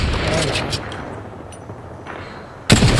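Gunshots in Apex Legends ranked play: a loud crack opens, a quieter battle-noise lull follows, then another sharp, close report lands near the end, with someone talking in between.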